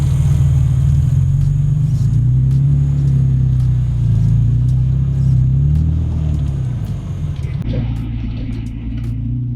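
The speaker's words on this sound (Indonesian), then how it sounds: "Ini nih BMW yang bener tuh sekali starter jreng" A BMW E34 520i engine runs during a test drive, a deep steady rumble with a shift in tone near the end, with voices heard now and then over it.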